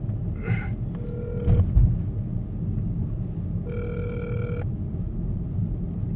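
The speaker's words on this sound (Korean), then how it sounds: "흥민이한테 전화해볼게요" A telephone rings twice while a call is being placed from inside a moving car on the way to the airport in Busan: two short electronic ring bursts over steady road rumble, with no talking.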